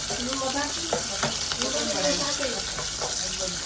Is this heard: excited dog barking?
no